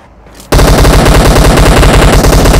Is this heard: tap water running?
no